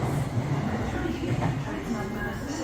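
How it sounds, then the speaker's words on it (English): A Shinkansen bullet train passing at Nagoya, a steady loud rumbling roar with low rail noise that holds throughout, close by and without clear speech. "And that's our train going."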